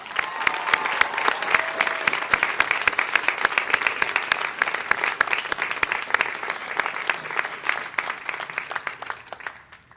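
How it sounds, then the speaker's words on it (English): Dense, sustained applause from a large crowd at the UVA Law commencement ceremony in 2018, honoring family and friends; brisk overlapping claps hold steady for about ten seconds, then fade slightly toward the end. "I want to ask the graduates to join us in a round of applause to honor and thank your"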